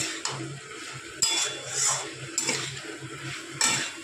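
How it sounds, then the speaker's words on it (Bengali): Fried vegetables being stirred with spices in a pan for a paneer vegetable curry, heard as several close metallic scrapes and clinks of a spoon against cookware over a faint background hiss. "ঢেলে এই সবজির সাথে মশলাটা একটু কষিয়ে নেব।"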